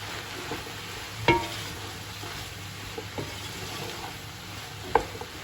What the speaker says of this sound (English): I'll give this a good mix.